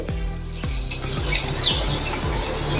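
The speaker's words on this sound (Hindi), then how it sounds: "अभी जो हमने राजमा का जो पानी है वो इसमें थोड़ा सा डाल देंगे।" Rajma cooking water poured into a pan while preparing rajma chawal, a steady trickling water sound running throughout with faint chirping in the background.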